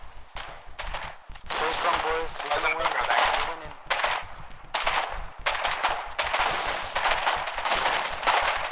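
Dense, loud gunfire and mortar blasts in a war video game as mortar teams shell tanks, with rapid overlapping bursts and booms rolling continuously and a voice talking over parts of it.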